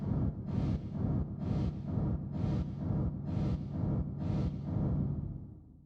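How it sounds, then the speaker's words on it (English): A techno rumble bass drenched in distortion, stereo delay and reverb, heard alone as a dense, dark low roar that swells in a steady pulsing rhythm, roughly every second, with a washy tail at the end. "In isolation, the rumble sounds like this."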